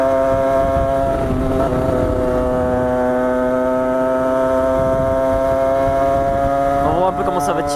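An MVT Iron Max 75 motorcycle engine runs loud and close with a steady, strongly tonal buzzing drone, briefly rising in revs near the start and again at the end.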